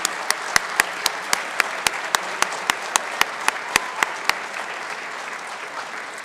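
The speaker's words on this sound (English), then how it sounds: "would you all stand and let us applaud you?" Chapel audience at Saint Johnsbury Academy applauds students from Jeju, a sustained round of clapping with one loud, regular nearby clapper standing out, the sharp claps stopping near the end as the applause fades.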